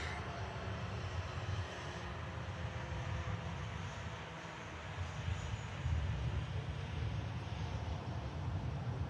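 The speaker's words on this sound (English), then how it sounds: "That's a lovely touchdown." Emerald Airlines ATR turboprop airliner touching down on arrival from Dublin, a steady broadband engine and propeller roar at moderate distance that swells slightly near the end, with no talk over it.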